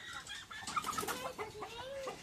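Several chickens clucking softly nearby, with short murmuring calls and a rising squawk, fairly quiet.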